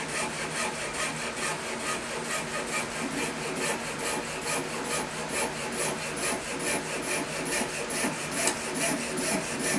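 A hand saw cuts a guitar nut or saddle blank in rapid, rhythmic back-and-forth strokes, a close, raspy scraping that repeats steadily throughout.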